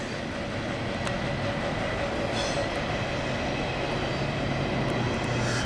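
Norfolk Southern 211, a long intermodal container freight train led by AC44 and Dash 9 locomotives, rolls southbound on track 1 at Lowell, a steady, loud rumble of wagons with faint clacking that continues throughout without talk.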